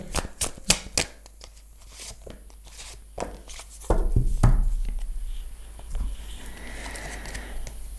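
Tarot cards are shuffled and drawn, starting with a quick series of crisp riffling snaps and then softer card slides and shuffling rustles close by, with no talk.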